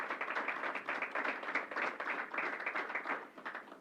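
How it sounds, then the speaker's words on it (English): Sustained applause from an audience at a New York State COVID briefing honoring the County Executive, a dense, steady patter of many hands clapping for several seconds, fading slightly at the end. "So I want to give you a round of applause"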